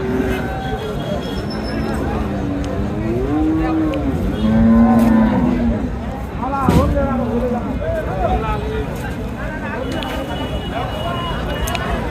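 Friesian cows moo several times, long drawn-out calls close by, with people talking and background noise throughout.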